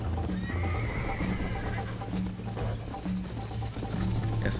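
A horse in Red Dead Redemption gallops with steady rhythmic hoofbeats and gives a neigh near the start, close and loud over a continuous outdoor game ambience.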